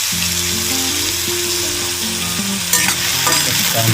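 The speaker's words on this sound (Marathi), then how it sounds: "तेल तापल्यानंतर कांदा टाकून घेऊया." Onion dropped into hot oil in a wok, giving a loud, dense, continuous sizzle and crackle close by, with a brief burst of stirring clatter partway through, no voices.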